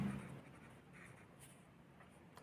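Pen writing on paper during a maths lesson, faint soft scratching strokes at close range over quiet room tone, with no voices.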